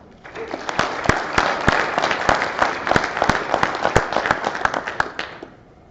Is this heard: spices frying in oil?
no